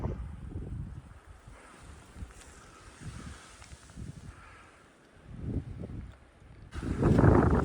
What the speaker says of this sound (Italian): C'è un vento pazzesco, mamma mia.